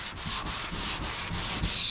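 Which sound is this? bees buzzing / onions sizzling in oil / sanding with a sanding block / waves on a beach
sanding with a sanding block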